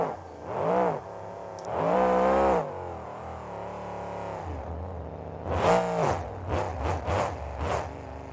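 Simulated mega truck engine revving hard through a victory donut at a mud park event in BeamNG.Drive, loud throaty bursts rising and falling with a few sharp rev spikes near the end, no talking.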